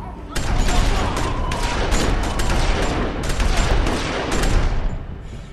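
Rapid gunfire volley from The Walking Dead Season 2 game, a loud dense burst of many overlapping shots lasting several seconds, close and continuous with scattered sharper cracks.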